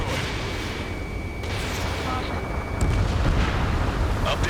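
Heavy explosions rumble and crack as a target is destroyed during an air combat mission in Ace Combat 7, a dense, continuous barrage of booms with gunfire, loud and close, while radio voices talk over it.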